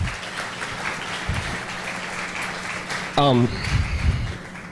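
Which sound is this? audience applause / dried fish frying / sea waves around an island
audience applause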